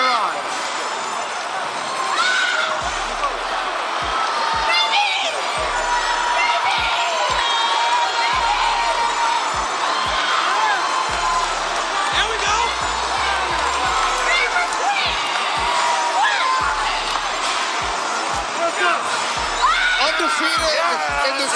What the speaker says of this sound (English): There's Clarressa's mom, Marcella Adams, cheering her daughter on.